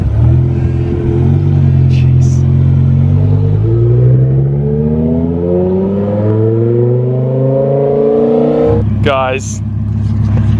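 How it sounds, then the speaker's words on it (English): A BMW E63 M6 with its V10 engine revs hard and accelerates, the exhaust note climbing steadily in pitch for several seconds before a sharp shift and more revving, with brief voices over it. "I'm gonna get like a note of the exhaust."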